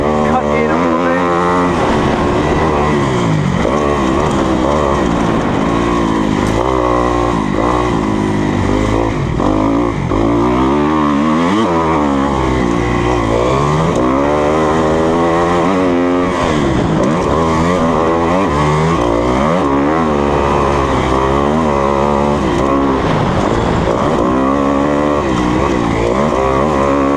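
A 2020 Kawasaki KX250F dirt bike ridden on a wooded motocross track, its engine droning and shifting pitch as the rider throttles and downshifts, close and steady throughout, with faint talk mixed in.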